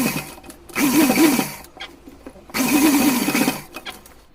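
A sewing machine stitches the folded fabric edges of a small dress in two loud, close bursts of rapid whirring, separated by a short quieter pause.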